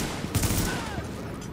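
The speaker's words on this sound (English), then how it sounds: "You just keep shooting like that." A rapid volley of automatic gunfire sounds in the video game Tom Clancy's The Division, a continuous close fusillade lasting the whole short stretch with no talk.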